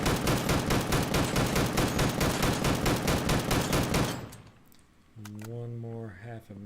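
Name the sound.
gunfire at a turret in video game Deadside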